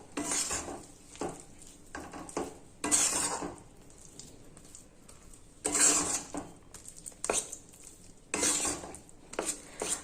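Unsweetened mawa is stirred into hot sugar syrup for coconut koprapak: quiet, intermittent bursts of a spoon scraping and clinking against the pot, separated by near-silent pauses.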